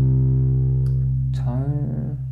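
A deep sustained synth bass tone in GarageBand with distortion added, buzzing and rich in harmonics, shifting and wobbling in texture toward the end.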